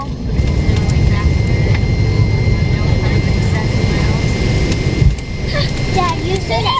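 A passenger airplane's jet engines roar steadily during takeoff, heard from inside the cabin as a loud, continuous rumble, with voices briefly audible over it.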